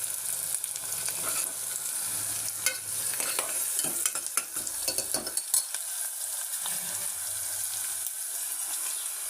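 Onions fry in a pan with a constant close hiss, broken in the first half by scattered stirring clicks and scrapes before settling into an even sizzle.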